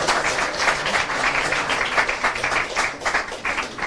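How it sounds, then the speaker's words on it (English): An audience at an evening of the Panihati Festival claps in sustained, dense applause, loud and even throughout with no speech over it. "some of you clapped loud enough and long enough"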